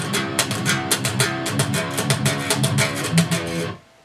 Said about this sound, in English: With something like this riff,